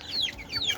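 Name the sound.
chickens clucking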